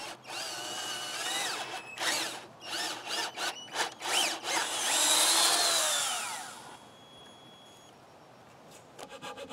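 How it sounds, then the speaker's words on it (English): A power drill bores a hole in wood for a trailer hitch on a homemade lawnmower trailer, loud and close in several short rising bursts followed by one longer sustained whine that fades. "Now I'm drilling out the hole for the hitch."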